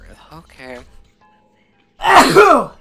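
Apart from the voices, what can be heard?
sneeze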